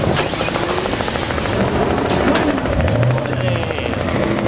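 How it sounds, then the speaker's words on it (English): A helicopter hovers over a street race, its steady rotor thump and turbine whine loud and continuous, with no voices. "We got a helicopter at the street race."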